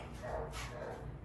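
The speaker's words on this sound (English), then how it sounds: "don't mind the dog barking in the back" A dog barks faintly in the background of a garage where a 5.3 engine has just been set into a 1991 GMC Sonoma truck. The barking is brief and distant over a steady low hum.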